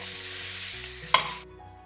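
Samosa potato filling being stirred and mixed in a wok, a close scraping and sizzling stir that ends in a sharp clink before going quiet.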